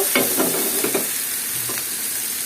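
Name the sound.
pointed gourd and potatoes being mixed with spices in a pan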